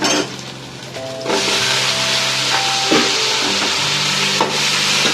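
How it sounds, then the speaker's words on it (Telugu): Chicken pieces sizzle in a hot pan with fried ginger for chicken fry piece biryani. A loud, steady frying hiss runs throughout, with scraping and stirring sounds on top. "చికెన్ని కూడా కాస్త ఫ్రై చేసుకోవాలి."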